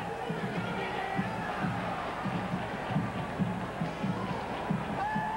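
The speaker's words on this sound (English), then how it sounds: "Another big crowd here on homecoming today, anticipating a sellout or very, very close to it." A big homecoming crowd at a 1990 Louisville versus Memphis State college football game fills the stadium with a steady, distant roar and rhythmic chanting throughout.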